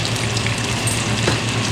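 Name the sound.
whole fish frying in oil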